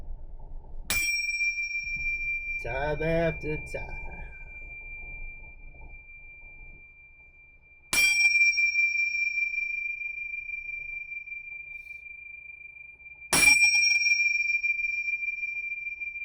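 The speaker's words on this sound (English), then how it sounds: "Let's do the bell. Oh, the bell toll." A ritual bell is struck three times to clear the energy, each strike a bright, sharp ring that sustains and slowly fades. A brief spoken phrase comes after the first strike, and the room is otherwise quiet.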